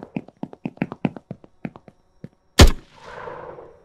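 Gunfire in an Unreal Engine 5 third-person shooter game: a run of light rapid taps gives way to one loud close shot, followed by a fading tail of noise, with no talking.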